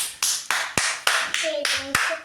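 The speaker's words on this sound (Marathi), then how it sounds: "काय टाळ्या वाजवते तू." A small child claps hands in an indoor kitchen while bread dough is being shaped, about eight light, evenly spaced claps up close, with a brief voice speaking near the end.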